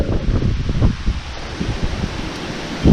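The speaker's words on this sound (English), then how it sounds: "Not sure how high the wind is, but it's way up there." Strong outdoor wind in chilly weather as a storm blows in, a steady rushing roar with gusty low-end buffeting against the microphone throughout, with no talking.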